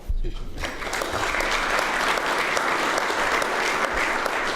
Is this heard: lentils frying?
no